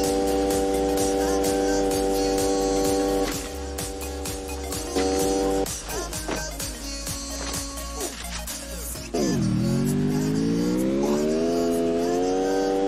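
A game car engine drones and revs steadily with tonal whine, dipping at one point then climbing back up in pitch, loud and continuous without talk.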